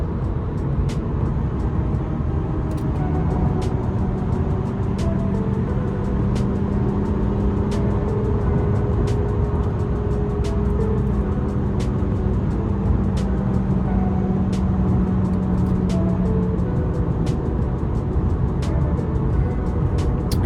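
An Audi A6 drives along with a steady, continuous engine and road drone from inside the cabin, a constant rumble with faint periodic ticks and no talking.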